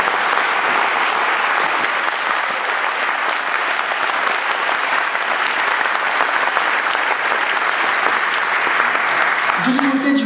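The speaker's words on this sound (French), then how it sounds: "Merci de l'applaudir pour son 40e anniversaire." Sustained, dense audience applause at the opening night of a short film festival in Clermont-Ferrand, a loud, even roar of many hands lasting the whole stretch.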